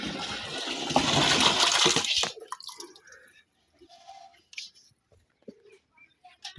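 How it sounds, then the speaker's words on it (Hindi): Jaggery tumbles into a drum with a loud rushing, splashing pour for about two seconds, followed by faint scattered drips and knocks, outdoors on a farm while making a liquid fertiliser. "जो गुड़ है हमारा 1 किलोग्राम, वो इस ड्रम में डालते हैं।"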